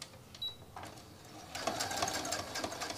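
A sewing machine used for puppet making runs in a fast, steady mechanical whir after being rethreaded. It starts quietly after a brief pause and grows louder, with no talk over it.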